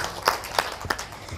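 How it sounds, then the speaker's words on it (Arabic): A few quick, sharp claps from a small audience on a children's TV show for orphans, three distinct slaps in a short, fairly quiet burst. "تصفيق على نورهان"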